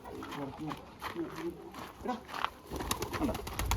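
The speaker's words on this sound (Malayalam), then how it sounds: "ഭയങ്കര ഇണക്കുള്ള പ്രാവ് കേട്ടോ" Low throaty pigeon coos repeat near the start, then give way to a person talking quietly close by.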